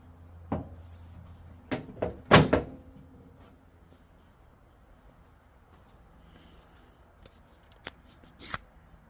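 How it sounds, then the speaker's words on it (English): A custom fiberglass decklid on a VW Beetle has its latch tested in a garage: a few sharp clicks and knocks, one louder cluster of metallic clunks near the middle and a last snap near the end, with quiet gaps between. "So we'll be testing out the latch too."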